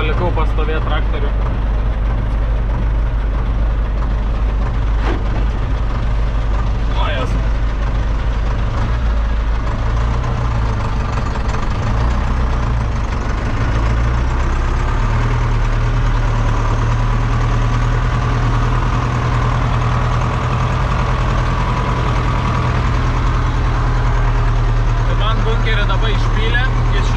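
A tractor engine idles steadily in a low, continuous drone at the start of the grain harvest, left standing near a pit, with occasional voices and background activity over it.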